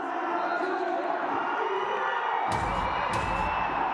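Crowd at a Pro Kabaddi League match in Gachibowli between Telugu Titans and U.P. Yoddhas cheering loudly and steadily as a defender steps out of bounds, a dense roar with whoops rising near the end.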